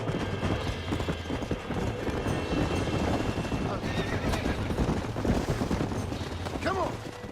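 Horses whinny and hooves clip-clop in the Western video game Red Dead Redemption, a loud continuous mix of neighing and galloping with scattered gunfire-like bursts throughout.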